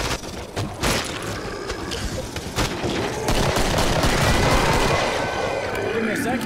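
Dense, continuous gunfire in the Killing Floor zombie shooter, with rapid overlapping shots and mechanical weapon clatter suggesting a reload, loud and sustained throughout.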